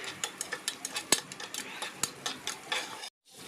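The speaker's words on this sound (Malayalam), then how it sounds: "നമ്മൾ തൊണ്ടാമുളക്, സവാള, തക്കാളി എന്നിവ കൂടെ ആഡ് ചെയ്ത് കൊടുത്ത് നന്നായിട്ട് ഇളക്കി യോജിപ്പിക്കണം" Green chilies, onion and tomato stirred in a pan while cooking chicken dum biryani, a steady run of close, sharp scraping clicks from the spoon roughly every few tenths of a second, stopping abruptly near the end.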